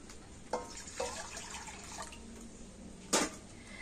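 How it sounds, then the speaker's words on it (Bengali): Water is poured into a wok on a stove in a few short splashing bursts, close and fairly quiet, with a louder splash near the end over a faint background hiss. There is no talk. "তো কড়াতে এখন দিয়ে দেব জল।"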